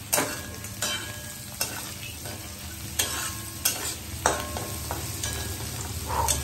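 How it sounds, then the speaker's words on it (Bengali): Onion fries in hot oil with whole garam masala, a close, busy sizzle punctuated by repeated sharp scrapes and clacks of a spatula stirring against the pan, with a steady hum underneath. "এদিকে পেঁয়াজটা ভাজছি আমি গরম মশলা ফোড়ন দিয়ে"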